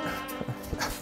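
A dog gives short, quiet yips and barks indoors, a brief cluster of sounds over about a second with some background noise.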